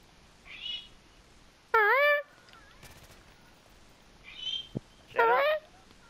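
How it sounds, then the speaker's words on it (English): An indoor bird screaming: two loud, harsh, harmonic screeches a few seconds apart, with softer chirping calls in between. "scream at that bird to get it to shut the hell up"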